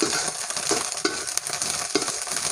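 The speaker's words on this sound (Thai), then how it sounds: "ก็เลยจะต้องผัดให้มัน สุกไปเลยค่ะ" Food being stir-fried in a pan until cooked, a steady close sizzle broken by repeated scraping strokes of a utensil against the pan, with no talking.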